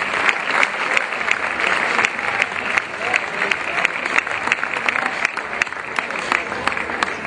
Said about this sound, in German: Jannik Clausen, 13. Platz, einmal Applaus, ein kleiner Trostapplaus.